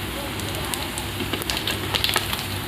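Dry red chillies, whole cumin and bay leaves sizzle in hot oil with a steady, dense hiss and scattered sharp crackles and pops, close and continuous.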